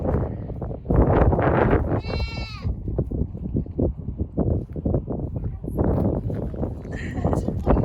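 Goats bleating up close on a goat farm, several wavering cries standing out over near-constant talking and farmyard background noise.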